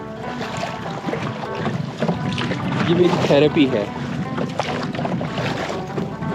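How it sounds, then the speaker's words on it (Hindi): A kayak glides across water while its paddle dips in with soft, light splashes, heard amid wind and broad water noise beneath someone speaking over it. "टकराती हुई मेरी कायाक और पानी के अंदर ये डूबता हुआ चप्पू, इसकी हल्की सी चप सी आवाज़"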